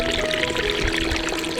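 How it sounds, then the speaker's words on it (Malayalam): A small village waterfall at Keniyamvayal in the Nilgiris pours steadily, with a constant rushing, splashing wash of water that stays even and close with no pauses. "ഇതാണ് കേട്ടോ ഞങ്ങളുടെ നാട്ടിലെ വെള്ളച്ചാട്ടം"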